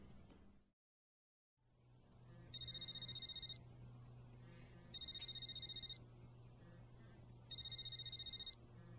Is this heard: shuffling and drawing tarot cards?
no